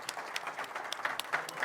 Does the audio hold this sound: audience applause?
yes